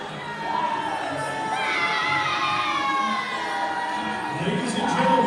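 A live wrestling crowd erupts after an upset win, with shouting, whoops and cheering that swell and hold across the arena, fairly loud and continuous.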